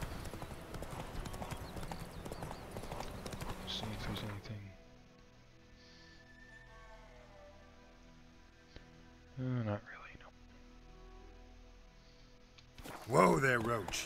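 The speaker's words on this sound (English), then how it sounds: "Whoa there, Roach" Horse hooves clip-clop at a steady trot in the video game The Witcher 3 for the first few seconds, then give way to quieter game ambience with brief bursts of sound, and a voice speaks.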